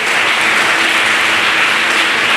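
Congregation at a Portuguese-language church service applauds the Lord loudly, a dense continuous wall of clapping close and full throughout.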